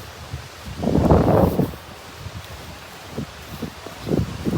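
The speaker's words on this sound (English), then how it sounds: "It's very windy." Wind gusting across an open field, a loud rushing burst near the start followed by quieter intermittent gusts and buffeting against the microphone.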